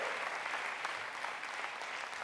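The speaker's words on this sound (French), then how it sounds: "Donnons-lui des bonnes acclamations." Congregation applauding God during a church sermon, a full steady burst of clapping from many hands, even and sustained with no speech over it.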